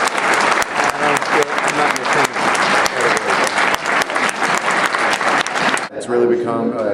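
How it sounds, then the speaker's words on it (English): A standing round of applause from an audience at a nullification rally, loud dense clapping that fills nearly the whole stretch before cutting off abruptly, followed by a brief moment of voices. "please stand up for a round of applause"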